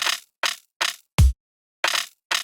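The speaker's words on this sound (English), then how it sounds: "This is just giving the snare a kind of interesting character." A snare drum processed with delay feedback and a pitch effect: six crisp, evenly spaced hits with quickly decaying tails, one replaced by a deep low-pitched thud, played alone and close.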